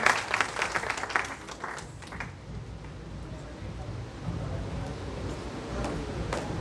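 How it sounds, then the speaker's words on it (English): Audience applause at the close of an educational seminar, a burst of clapping that is strongest at the start and then thins into scattered claps and room noise. "So big round of applause for our speakers and present and faculty members here."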